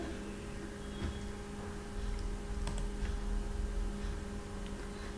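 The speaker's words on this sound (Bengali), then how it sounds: "দেন এন্টার, Ctrl+S, সেভ হয়ে যাবে।" Computer keyboard keys tapped quietly a few times, faint isolated clicks over a steady room hum.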